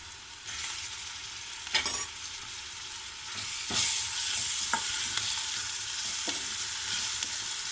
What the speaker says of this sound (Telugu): అల్లం వెల్లుల్లి పేస్ట్ వేసుకుందాము